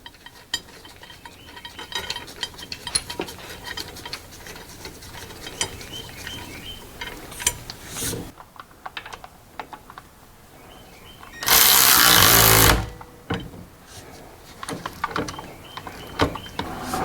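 Bolts are fitted and tightened on a Mercedes Sprinter van transmission. Close metallic clicks, clinks and ratcheting rattles are broken by one loud, roughly one-second burst of a powered tool spinning a bolt down.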